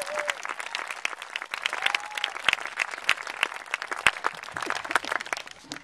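An audience applauds a Shasta Taiko group at a live performance: dense, steady clapping sustained for several seconds, moderately distant, with a few scattered louder claps and faint voices mixed in.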